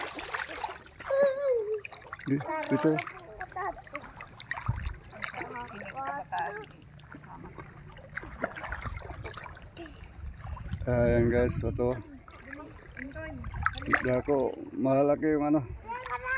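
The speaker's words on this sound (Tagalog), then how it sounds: "Malaki yung dagat ngayon eh. High tide." Seawater at high tide splashes and churns around a swimmer at the shore, a continuous close wash of sloshing and spattering with surges, while a person talks over it now and then.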